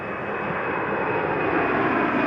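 A fixed-wing aircraft takes off from runway 29, its engines making a loud, continuous roar that builds steadily, with no voices.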